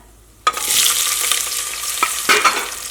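Sliced onions hit hot oil in a pressure cooker with a sudden loud sizzle that continues steadily, with a couple of clanks of a utensil stirring in the pot.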